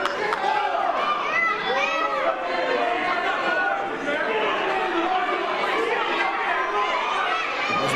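A crowd member heckles wrestler Ryan Davidson at an independent wrestling show in the Norfolk Masonic Temple: shouted jeers over constant, dense crowd chatter and voices filling the hall at moderate volume.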